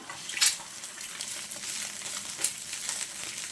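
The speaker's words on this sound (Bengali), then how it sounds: "ডিমটা আমি একটু নেড়ে চেড়ে ভেজে নেব" An egg with salt frying in a pan for a tiffin dish, a steady close sizzle and crackle with a couple of sharper spits as it is stirred.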